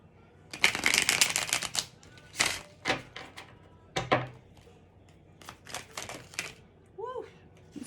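Tarot cards are riffled and shuffled nearby in quick bursts of crisp flapping and slapping, with pauses between, while a person talks softly over them.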